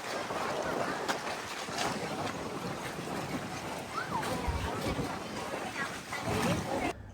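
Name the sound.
boat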